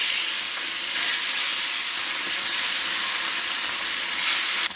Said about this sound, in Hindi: तो अब इसमें हम मछली को डाल देंगे